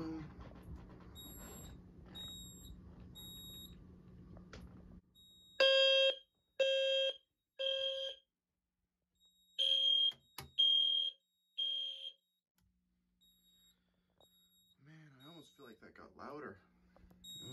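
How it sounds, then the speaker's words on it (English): A smoke alarm in a bedroom test emits a series of loud, shrill beeping bursts in irregular pulses, preceded by a low mechanical hum; a faint voice appears near the end. "this smoke detector is activated, and this one is too."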